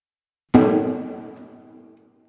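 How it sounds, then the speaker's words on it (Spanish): A single drum strike with a sharp attack and a resonant, ringing tone that slowly fades out over about a second and a half. "El primer tambor suena así."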